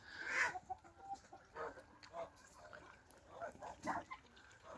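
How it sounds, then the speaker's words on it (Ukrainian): Chickens cluck softly in short bursts at a moderate distance, with faint outdoor background noise between the calls. "Тут і кури з ними."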